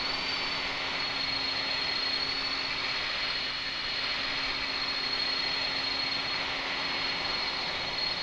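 Steady, unbroken jet engine roar with a thin high whine runs throughout, constant and moderately loud, from a jet parked overhead in Microsoft Flight Simulator near a Douglas DC-3 at Confins, Minas Gerais.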